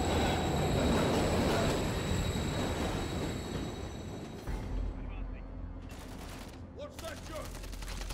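Train rumbling past in a Call of Duty Modern Warfare 3 campaign mission, a loud, dense mechanical roar that drops away partway through, leaving rhythmic clatter and distant gunfire.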